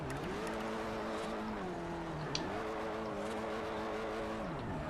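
A car drifts in second gear in Forza Horizon, its engine holding a steady tone that sags and rises again as the tires slide. It sounds fairly quiet and distant, with no talking.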